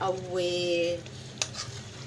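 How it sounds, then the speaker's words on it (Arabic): Chopped onion sizzles in a pan of butter and oil, with a continuous frying hiss under a brief stir and a short clink of a utensil against the pan. A hum is also present. The sound is close and steady. "بشوح البصله بالزبده بتاعتي بالزيت"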